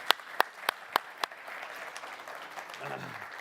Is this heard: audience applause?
yes